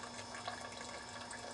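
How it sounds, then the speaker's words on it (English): Chicken stock pours from the bottom spout of a fat separator in a kitchen, a soft, continuous liquid trickle, faint and steady, with no talking over it. "The fat rises to the top, the stock sinks to the bottom, and you just pour that stock back out of the bottom,"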